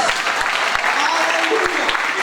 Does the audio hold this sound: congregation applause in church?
yes